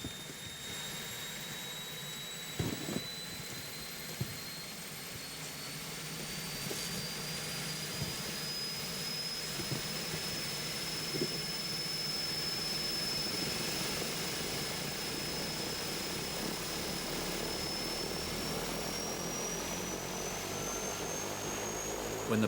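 Aircraft engine drones steadily on a snow-swept polar ice shelf during a North Pole expedition, a continuous loud roar with a high whine, a few faint knocks early on and some background voices.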